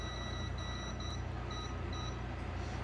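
An electronic cooktop timer gives a series of short, evenly spaced high beeps as it is set for fifteen minutes, faint and a little distant over a steady low kitchen hum.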